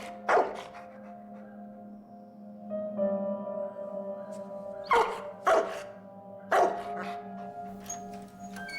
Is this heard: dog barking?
yes